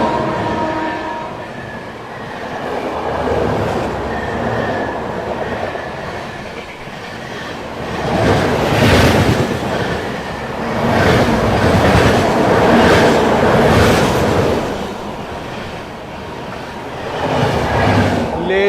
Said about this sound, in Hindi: क्या आ रही है भाई, शिवगंगा सुपरफास्ट एक्सप्रेस